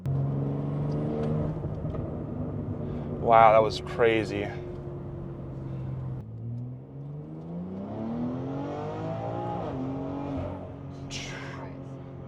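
Tuned BMW X3M engine making over 750 wheel horsepower accelerating hard, a deep droning rev that climbs in pitch, drops at a shift, then rises again, with excited voices speaking inside the cabin.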